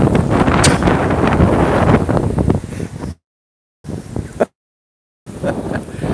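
Loud wind buffets the microphone in Hyde Park in a heavy, roaring rumble, cutting out to silence twice before returning.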